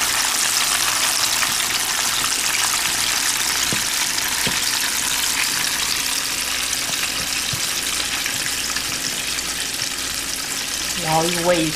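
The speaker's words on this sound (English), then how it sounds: "Let that completely deep fry." Battered squirrel deep frying in hot oil, a loud steady crackle and hiss that runs unbroken throughout, close by.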